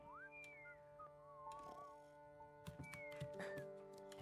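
Whistling in El Hijo: A Wild West Tale, a few faint rising and sliding whistled notes over a soft sustained musical backdrop with light clatter.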